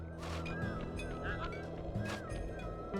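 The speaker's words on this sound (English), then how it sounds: "Hey, it's a duck." Honking, goose-like duck quacks from the video game Sly 2: Band of Thieves repeat several times over a busy background of game music and ambience, with a voice faintly present.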